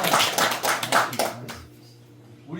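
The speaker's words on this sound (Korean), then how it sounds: "이럴 때는 박수하고 한번 쳐줘야 돼." Audience applause at a Buddhist temple's New Year regular dharma service, a burst of claps for about a second and a half that quickly thins out, leaving quiet room tone.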